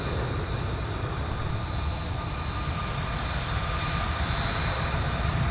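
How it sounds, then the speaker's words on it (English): A Delta Airbus A330 bound for Dublin roars steadily on its takeoff run, a loud, continuous jet engine rumble with a high whine layered on top. "I forgot that we had another A330 departure"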